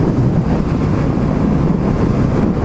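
Strong wind roars steadily and loudly against the microphone along a highway, a dense continuous rumble with no letup and no voices.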